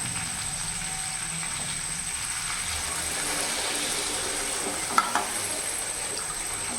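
Water poured into a hot pan of taro and rohu fish curry, a steady broad sizzling hiss throughout, with a couple of sharp clinks near the end; no one speaks.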